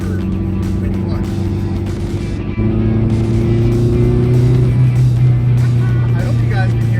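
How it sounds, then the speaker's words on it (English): A car's turbocharged engine hums loud and steady, with rising harmonic tones and a brief dip around the middle that could be turbo flutter on lift-off, and talk running over it. "I hope you guys can hear the turbo flutter"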